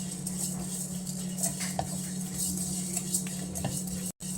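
Coriander and cumin seeds are stirred as they dry-roast in a pan for a bhajani flour mix. A spoon gives soft, irregular scrapes and clinks over a steady low hiss, close and moderately loud, with no talk.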